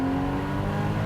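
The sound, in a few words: Porsche Boxster Spyder engine revving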